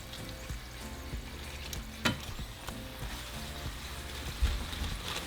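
Taco shells fry in hot oil with a steady, close sizzle and scattered sharp pops, with no talking.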